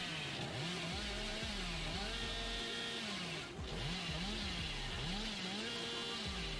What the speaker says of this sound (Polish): I odpalamy piłę